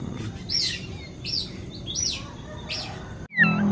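A long-tailed shrike calls from the edge of a rice field, giving a series of short rasping chirps at roughly even intervals over a low background rumble, ending in a sharper, louder note.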